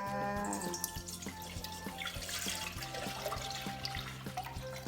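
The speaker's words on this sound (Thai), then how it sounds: "เราจะใส่กะทิลงไปเลยค่ะ" Coconut milk from a one-kilogram bottle is poured in for a pandan coconut jelly, giving a quiet, soft liquid trickle with faint clinks and a low background hum.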